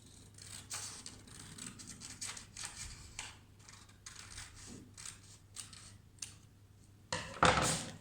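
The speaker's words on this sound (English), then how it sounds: "you can take your scissors and you're gonna cut along that line very carefully" Soft, irregular snipping and rustling of paper being cut, fairly close and quiet, with a louder crinkle near the end.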